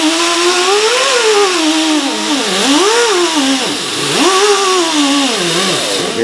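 A buffing wheel loaded with jeweler's rouge polishes the frets of an Ibanez 7-string guitar, giving a loud, continuous motorized whine that rises and dips in pitch as the wheel is pressed against the frets.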